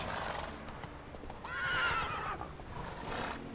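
Roach, the horse in The Witcher 3, whinnies clearly in a rising and falling call mid-clip, with hoof clip-clop and ambient game sounds around it and no talk.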